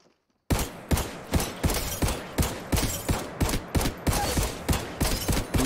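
Rapid volley of scout rifle shots in the Apex Legends Mobile video game, about a dozen sharp evenly spaced cracks fired in quick succession after a brief silence, loud and close with no talk.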